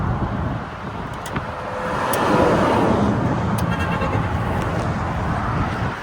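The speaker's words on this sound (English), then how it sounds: "I'm in first gear, foot is off the clutch, going 4 miles an hour." A broken race car creeps along in first gear at about four miles an hour, its engine droning steadily with road and wind rumble that swells slightly midway, no talking.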